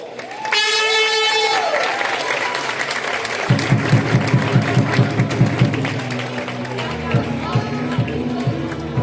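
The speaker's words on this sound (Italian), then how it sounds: "Ancora un bel applauso." Applause from a crowd at a volleyball match's closing ceremony, carried under loud, rhythmic arena music with a pulsing bass line throughout.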